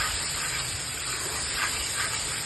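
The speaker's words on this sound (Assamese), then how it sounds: "মছলাখিনি এনেকৈ ভাজি লওঁ ধুনীয়াকৈ।" Spice masala sizzles in hot oil while frying for a homemade local chicken curry, a steady close hiss and crackle throughout.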